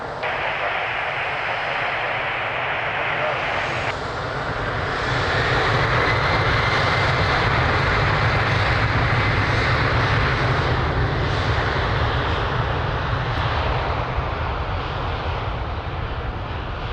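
An airplane takes off from runway 02 at Lisbon Airport; its engines roar steadily and loudly throughout, building in strength partway through, with no talk.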